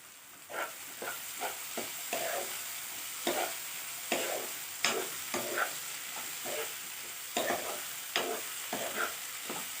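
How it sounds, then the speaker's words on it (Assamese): Drumstick flowers and red chilies sizzling in hot oil in a pan, with regular scraping strokes of a spatula stirring them throughout. "এইখিনি মই 10 মিনিটমান ভাজি ল'ম।"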